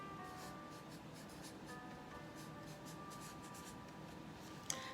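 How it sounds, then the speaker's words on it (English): Pen writing on a sheet of paper, soft scratchy strokes in a quick irregular rhythm, quiet and close, ending with a small tap. "I've written it on a sheet of paper"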